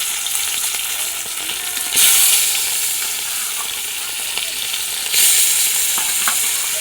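Fish frying in very hot oil in a wok, a loud continuous hiss and sizzle that swells sharply twice, with faint clicks and no voices.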